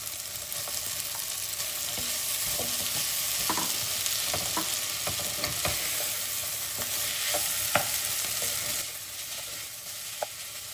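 Goan pork sausages fry in a pan with softened tomato, a steady close sizzle with scattered pops and stirring clicks throughout.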